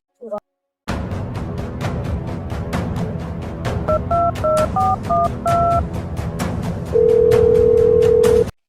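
A telephone number is dialed as a rapid series of short touch-tone beeps over a rhythmic ticking background, followed by a long steady ringback tone, with a brief voice before the dialing.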